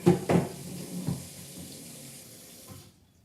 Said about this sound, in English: We're gonna add some water to them.